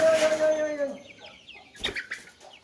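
Close-up native country chickens on a poultry farm cluck and squawk in short, bursty calls, one drawn-out cry followed by choppy clucks and a faint voice underneath.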